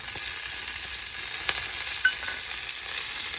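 Jackfruit vegetable sautés on a wood-fired stove in a Konkan kitchen, a steady mid-level sizzle and hiss with a couple of soft stirring taps, heard close with no talking.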